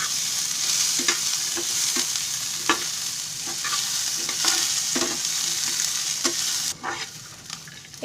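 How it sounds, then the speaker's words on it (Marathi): Chopped onion fries in a little oil in a pan while a spatula stirs and scrapes it, giving a steady soft sizzle broken by clear scraping strokes, close up with no voices. "हे कांदा असा थोडा भाजला ना,"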